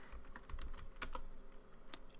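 Fast, uneven tapping on a computer keyboard fills a short stretch, close and fairly quiet, with no voices.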